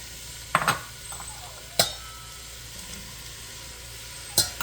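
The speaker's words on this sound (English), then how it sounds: "we're going to saute that for probably about another 2 minutes" Potatoes and diced mirepoix sauté in a pot with a continuous close sizzle, broken by a few sharp scrapes and clinks as they are stirred, and no voices.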